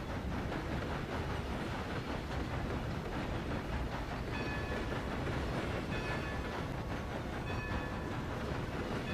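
Train riding in the video game Red Dead Redemption 2, a steady, even rumble with rhythmic clickety-clack of wheels on rails, continuous and fairly quiet, with no voices.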